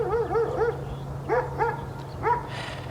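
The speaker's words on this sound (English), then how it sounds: "those freaking dogs barking in the background" Dogs bark in the background in several short bursts of two or three yelping barks, moderately distant, over a low steady hum with no talking.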